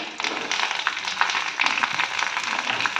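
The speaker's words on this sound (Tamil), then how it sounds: "அடுப்பை சிம்மில் வச்சு வெங்காயத்தை வதக்கிடலாம்." Onions sizzle and crackle in hot oil, a steady frying hiss with small pops throughout.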